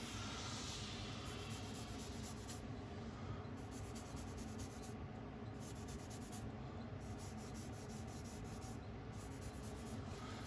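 Pencil lightly brushing back and forth across paper while sketching a box, a steady soft scratchy rubbing that continues close up and alone for the whole stretch.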